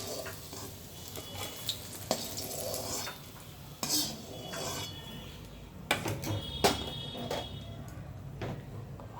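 Bitter gourd slices frying in hot oil in a pan, a steady low sizzle broken by irregular scraping and clinking stirs of a spatula against the pan, with no talking.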